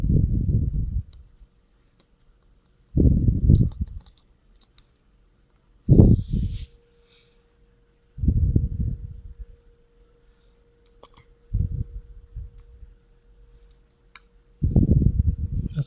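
Parts of a Samsung Galaxy phone are clamped back together during a screen digitizer repair, giving a series of short, close clicks and pressing thumps spaced a few seconds apart in an otherwise quiet room.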